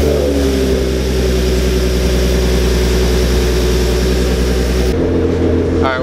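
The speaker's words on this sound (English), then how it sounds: "I'm about to start my car up" A loud car engine runs at a steady idle with a deep, rumbling drone, close by, then the note shifts and drops near the end.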